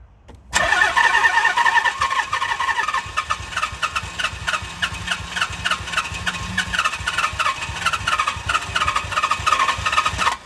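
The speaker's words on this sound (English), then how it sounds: "trying to crank the engine every time just to push out a small bit of petrol" A Nissan 300ZX, unstarted for nine years and fed by a makeshift fuel setup, cranks on its starter for about ten seconds: a loud, close, rhythmic churning whir that never catches.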